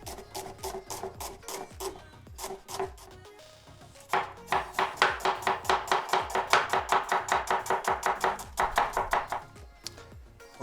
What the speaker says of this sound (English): we're going to prepare our onions. Just want to slice them.